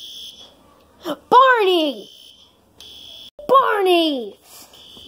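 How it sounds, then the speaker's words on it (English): A high electronic fire alarm beeps in repeated bursts while someone shouts loudly over it twice. "You pulled the fire alarm."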